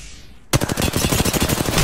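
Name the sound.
gunfire in the video game Apex Legends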